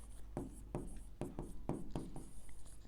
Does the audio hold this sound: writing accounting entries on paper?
yes